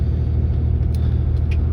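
A 2018 Ram 3500 Laramie pickup with a G56 manual gearbox, mostly stock with Bilstein shocks and 19.5-inch wheels, drives along with a steady low engine rumble and road noise, loud and constant with no talk.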